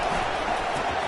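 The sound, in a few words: football stadium crowd cheering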